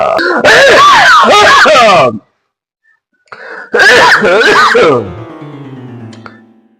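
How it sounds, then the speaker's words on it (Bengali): Someone close by coughs and clears the throat in harsh, loud bursts, two clusters separated by a short pause, the second trailing into a strained vocal groan. "খুব কাশি হচ্ছে"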